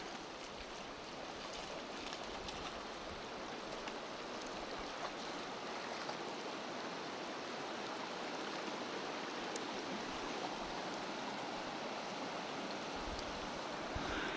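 A fast-running trout river on a bright day rushes steadily and loudly throughout, a dense broadband roar of churning water with no voices.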